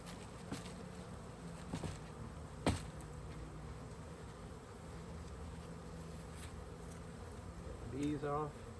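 Honey bees buzz steadily around a hive frame during a honey harvest, a continuous close hum with occasional louder passes near the microphone and a faint voice in the background.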